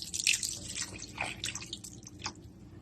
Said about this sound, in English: So I'm going to pour this over.